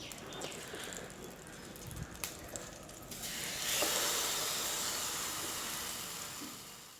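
Egg-dipped bread frying in melted butter: a few faint clicks at first, then a loud, broad sizzle swells up as the bread hits the pan and keeps hissing steadily to the end.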